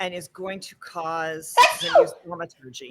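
A sharp, loud sneeze bursts out midway through steady speech, with one person still talking around it.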